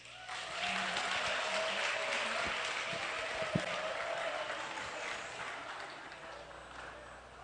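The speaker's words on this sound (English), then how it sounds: "a round of applause, please" Graduates at a high school commencement get a long run of steady applause from the audience, with a single louder knock partway through before the clapping slowly fades.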